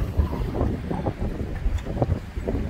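Stormy August wind at the Marina Dziwnów harbor on the Polish coast, gusting and buffeting hard against the microphone in a continuous low roar, with no talk.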